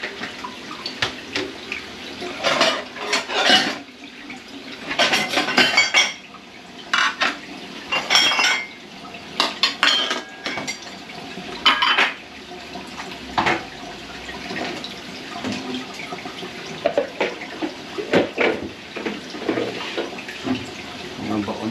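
Running tap water splashes into a sink as dishes are washed, with clinks of cutlery and plates in repeated bursts, nearby and fairly loud, with occasional voices.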